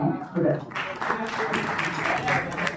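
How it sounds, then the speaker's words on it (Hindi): Audience applause for a Bastar poet from Jagdalpur at a Hindi poetry stage gathering: a broad, steady wash of many hands clapping across the whole stretch, with voices mixed in underneath. "उनके लिए जोरदार तालियां"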